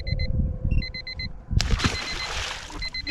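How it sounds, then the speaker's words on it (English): An electronic timer alarm goes off outdoors during a catfishing trip, sounding as rapid beeping in short repeated bursts. Splashing and handling noise follow, and the beeping returns faintly near the end. "My timer's going off."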